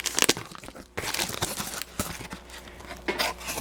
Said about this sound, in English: So I'm gonna unwrap it and come over here.